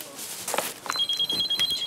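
A telephone rings in a children's clothing shop in a market, faint repeated electronic ring pulses starting partway through under scattered background noise.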